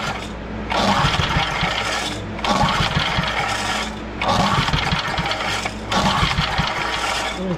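Four hard pulls on the starter rope of an old Ward's generator, each a loud rasping whir of about a second and a half, with the engine turning over but not catching, in a steady rhythm.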